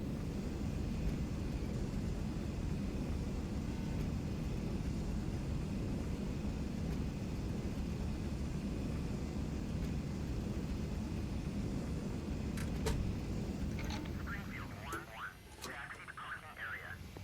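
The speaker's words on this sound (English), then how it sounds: "we stopped just short of the runway thanks to the thrust reverser" Jet roar from an AJS 37 Viggen landing with its thrust reverser engaged in DCS, a loud continuous broadband rumble that holds steady for about fourteen seconds and then dies away, with cockpit tones near the end.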